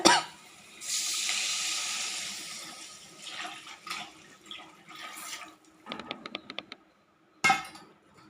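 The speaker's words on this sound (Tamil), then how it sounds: "கரைச்சி வச்சுருக்க குழம்ப எடுத்து ஊற்றிடுவோம் அதில்" Curry gravy pours into a pot in a steady splashing stream, then trickles and drips, followed by a few clinks of metal cookware.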